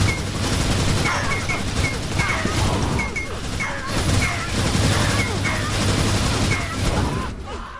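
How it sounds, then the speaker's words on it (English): Minigun and sniper rifle fire erupt in a 2v2 Assault Cup match, with repeated bursts of rapid gunfire and sharp crashes in a dense, loud, chaotic stream under a commentator talking throughout. "I'm following Banshee right now, who seems to be defending this with minigun and sniper rifle."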